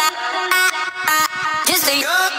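A chopped vocal sample taken from a song and pitched into key plays as short, sung syllable fragments with abrupt cuts between them, bright and close.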